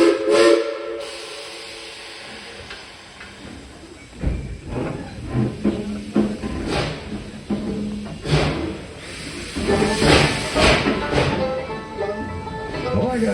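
A steam whistle sounds with bursts of hissing steam, alongside rumbling train noise and a few voices in the background.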